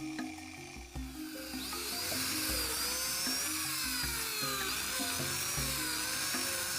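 A power drill bores into wood with a depth gauge fitted, whining steadily and close up while its motor pitch rises and falls through repeated drilling passes.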